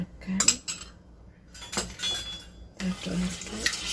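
A spoon clinks and scrapes against a glass while a drink of Nutrijel jelly powder and water is stirred, producing scattered bright metallic taps with soft liquid sloshing in between, close and moderately loud.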